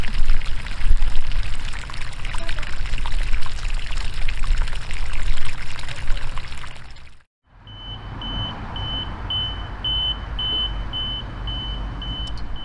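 Water drains from a garden pool through a hose pulled out across the yard, a steady broadband rush that runs loud and continuous, cuts out briefly, then resumes with a repeating electronic beep sounding over it.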